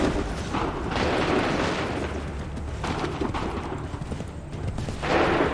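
Gunfire volley in Assassin's Creed III, a dense burst of massed musket shots rolling out at once and sustained over several seconds, with horse hooves faintly mixed in and a second swell of fire near the end.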